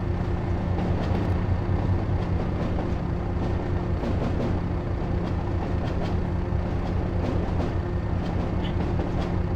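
A train rumbles steadily along the Tees Valley Line in Train Sim World, a loud continuous roll with faint rhythmic clatter and a constant hum throughout.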